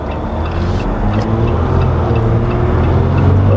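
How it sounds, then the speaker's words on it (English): A Jeep Gladiator Willys with the EcoDiesel engine winds up on the highway, its low diesel drone and steady road rumble holding loud and close inside the cab, with no one talking. "that little diesel wind up a little bit"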